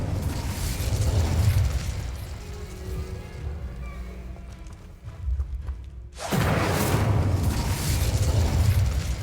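A burst of Incendio fire spell in Hogwarts Legacy, a loud whooshing blast that erupts, fades to a quieter stretch, then bursts back in full force for the last few seconds.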